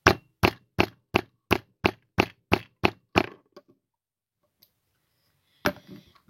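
A hand-struck hole-punching tool gives ten sharp, evenly spaced cracks in quick succession, close and loud, followed by silence and one last heavier knock.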